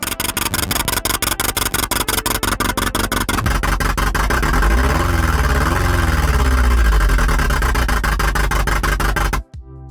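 Synthesized vehicle engine built in Kilohearts Phase Plant: a loud pulsing engine tone revs up and down through rising and falling pitch sweeps, then cuts off abruptly near the end.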